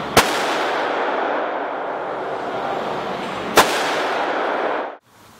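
A Gen 4 Glock 17 9mm pistol fitted with a titanium Liberty Infiniti suppressor fires two sharp, loud shots a few seconds apart, each followed by a long ringing roar that cuts off abruptly.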